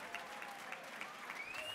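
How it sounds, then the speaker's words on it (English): An audience at a landmarks celebration gala applauds auction bidders, steady mid-distance clapping from a crowd with no voices over it. "Give them both a big round of applause."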